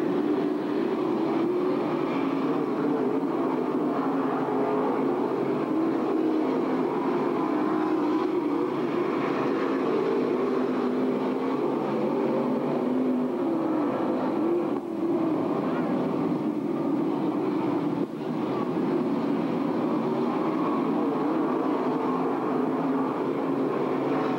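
Modified race cars roar around the track on closing night of the Shipwreck Beads Modified Nationals in Elma, a steady, dense engine drone with shifting pitch, under a commentator's running talk.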